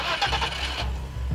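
A 1996 Audi A4 with a 2.8-litre V6 cranks with a brief burst of noise, then settles into a low, steady idle rumble close by.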